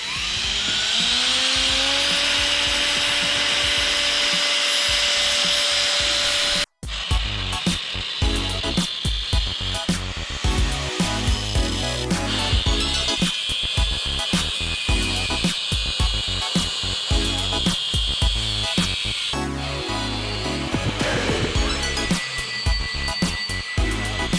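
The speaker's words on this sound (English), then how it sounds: "So now we need to drill the holes in the sprocket hub to bolt the sprocket to it" A high-pitched power drill whines continuously, briefly cuts out, then grinds on with uneven, scraping bursts as it bores holes into a metal sprocket hub.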